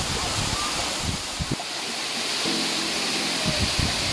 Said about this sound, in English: this waterfall is very beautiful and very Instagrammable